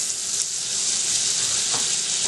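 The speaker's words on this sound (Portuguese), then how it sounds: "Aí eu vou colocar uma colher de margarina." A spoonful of margarine sizzles steadily in a pan still greasy from frying calabresa sausage, a loud, even hiss that runs throughout with no talk.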